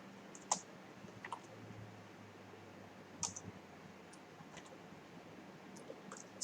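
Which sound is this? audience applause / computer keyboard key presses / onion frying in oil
computer keyboard key presses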